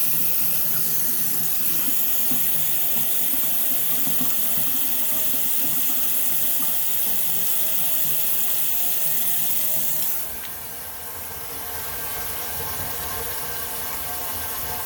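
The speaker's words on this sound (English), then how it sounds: "You don't want your water going straight down the drain like this" Tap water runs steadily into a slow-draining kitchen sink and gurgles down the drain, a continuous close rushing splash that shifts to a slightly softer flow partway through, with no talking.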